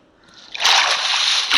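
A character in the Lokicraft 5 survival game falls into water, making a rising splash that swells into a sustained, bright sloshing wash, close and fairly loud.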